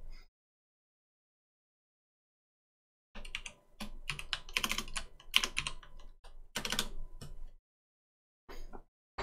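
Bursts of computer keyboard typing arrive after about three seconds of silence, fast irregular clacks in several close, fairly loud runs separated by short pauses, with no one talking.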